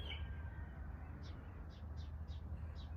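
A bird in a natural outdoor setting gives a short series of five faint, evenly spaced high chirps over a low, steady background rumble.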